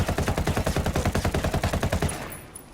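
An MK 16 rifle fires in Ghost Recon Wildlands, a rapid, even burst of about two dozen loud shots in quick succession that stops abruptly and leaves a brief fading tail.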